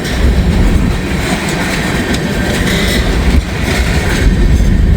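A train rolls slowly past close to a house in Walton, with a steady loud rumble, clattering wheels and rail clicks that continue throughout and no talking.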